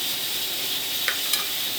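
Mutton fries in a pot as garlic goes in, a steady soft sizzling hiss broken by two quick clinks or stirs, close and even, with no talk.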